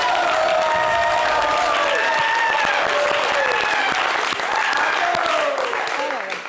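A studio audience on a TV singing show claps and cheers loudly and continuously, dense applause carrying on while a host speaks over it, tapering slightly at the end.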